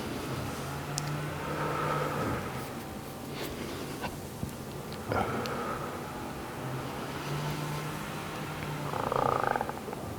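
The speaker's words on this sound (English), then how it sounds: "I'm making frog noises apparently as I'm digesting while I'm doing this." A stomach rumbles during digestion with low croaking, frog-like gurgles, faint and close, coming in a few separate drawn-out bursts over a quiet background.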